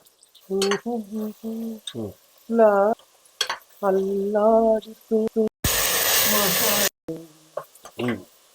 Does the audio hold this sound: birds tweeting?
no